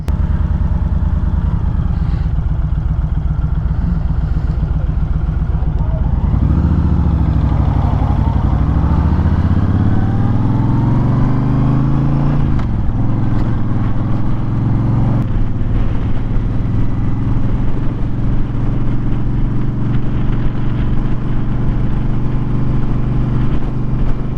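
A loud Honda Fury cruiser motorcycle engine rumbles steadily up close, revving and shifting through gears as it rides along in traffic, with no talking.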